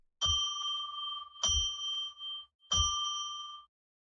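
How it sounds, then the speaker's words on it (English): A bell struck three times in a radio studio, each a clear bright ring that sustains and fades before the next, evenly spaced and close. "Let's ring a bell 3 times to declare sacred space"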